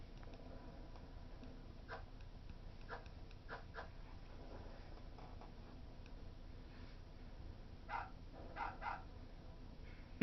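Dog barking at Seifer in Final Fantasy VIII, sharp yaps and whimpers in small clusters, first around two to four seconds and again near the end, over a quiet ticking game background.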